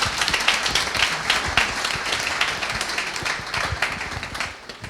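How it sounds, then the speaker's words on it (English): An audience claps in warm, dense applause for a healthcare discussion panel, a steady patter of many hands heard up close, without speech. "Let's give one more round of applause for such an open and engaging panel"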